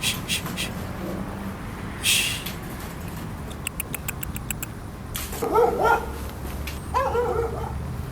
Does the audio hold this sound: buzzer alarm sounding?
no